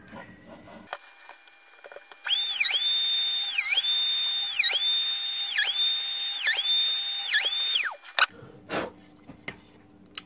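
A small drill bores shallow holes into a wooden ukulele fretboard for fret markers, its high motor whine steady for about six seconds with repeated dips in pitch as the bit bites, framed by quiet handling noise.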